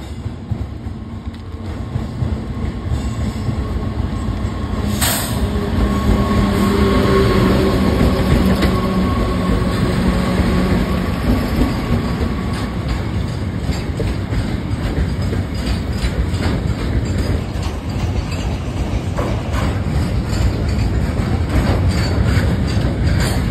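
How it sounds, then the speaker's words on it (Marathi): A train rumbles past close by for a long stretch, wheels clattering rhythmically over the rails with occasional high metallic squeals. "आणि बघा ट्रेन पण आली"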